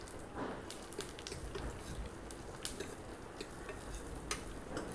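Green chillies and curry leaves sautéing in a pan for a recipe of leftover chapati pieces, giving a steady close sizzle and crackle with scattered small ticks and stirring scrapes throughout.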